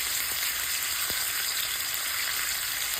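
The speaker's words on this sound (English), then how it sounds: "So you basically want to brown these oxtails on both sides." Oxtails trimmed of most fat browning in a frying pan, a steady close hiss of sizzling fat with faint stirring clicks, continuous and even with no voices.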